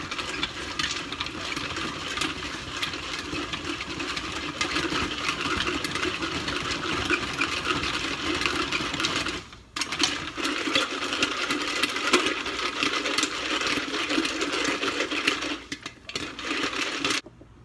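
A Whirley Pop stovetop popcorn popper is cranked steadily while kettle corn cooks. A continuous, close mechanical rattle whirs on with scattered ticking pops and only brief pauses.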